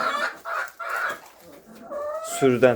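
Hens clucking in short bursts with a rooster's call rising near the end, close by, while someone speaks briefly.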